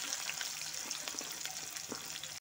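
Carrot and cauliflower pieces with chopped green chilli fry in a pan for masala sabu, giving a soft, steady sizzle at low volume with faint stirring clicks throughout.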